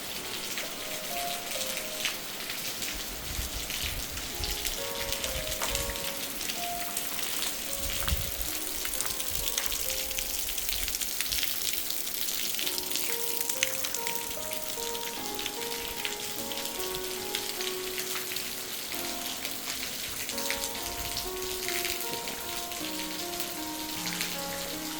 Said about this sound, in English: Thank you, God, for this rain.